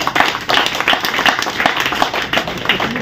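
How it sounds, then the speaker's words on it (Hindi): Lively audience clapping at a Lions Club Noida gathering, loud and close, with irregular individual claps standing out from an energetic, uneven round of applause. "बहुत सुंदर तालियां।"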